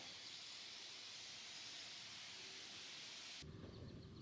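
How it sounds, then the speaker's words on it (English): Low, steady rumble of thunder rolling in the distance beneath a constant broadband hiss like rain or wind, with a slight shift near the end. "I can hear the thunder"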